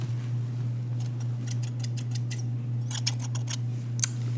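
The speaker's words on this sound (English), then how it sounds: "now what I'm going to do is take my scissors" Repeated snips of scissors cutting through fabric, a series of crisp close cuts over a steady low hum.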